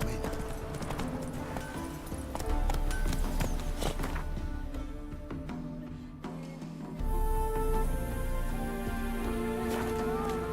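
Hooves clip-clopping at a steady gallop from a horse in the video game The Witcher 3, rapid rhythmic thuds carrying on throughout, close and loud, with game music and ambient sound beneath.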